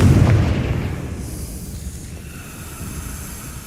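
A Confringo blasting spell explodes in the Hogwarts Legacy video game, a loud booming burst at the start that rumbles and fades into a lingering tail.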